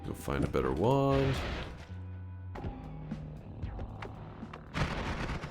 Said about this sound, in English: Funny anime explosion.